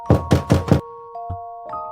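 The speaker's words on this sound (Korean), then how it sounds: "그의 방 문을 두드렸지만" Four heavy knocks on a room door in a quick, even run, loud and close, followed by quiet with a faint thud and a sustained eerie tone from a horror story.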